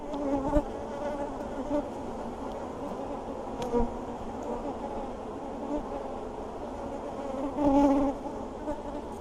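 Honey bees buzz steadily around an open hive during an inspection, a dense, continuous hum close by with a few louder passes as individual bees fly near, and no talking.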